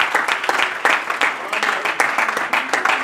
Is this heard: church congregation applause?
yes